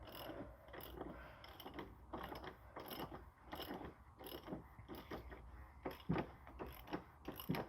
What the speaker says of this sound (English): we're just going to loosen up the filter to get the oil to flow back into the pan